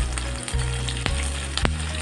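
Tempering seeds, curry leaves and turmeric hit hot oil for a cucumber chutney, a loud, close, continuous sizzle broken by a few sharp crackles and stirring scrapes.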